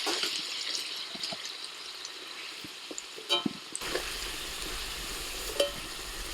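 Potatoes seasoned with salt and turmeric fry in hot oil, a soft steady sizzle with scattered light clicks and a couple of utensil knocks, quiet and alone.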